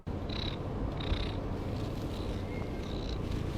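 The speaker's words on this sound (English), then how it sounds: "Purring is one of those behaviours that's familiar to all cat owners" A steady, low rumbling purr close up, continuous throughout, with faint high chirps drifting in and out in the background.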